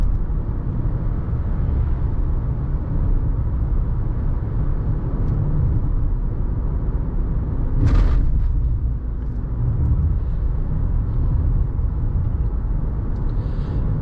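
A 2021 Toyota Highlander XSE AWD accelerates with the transmission holding gears, heard from inside the cabin as a steady, loud low engine drone and road rumble with a brief bump partway through.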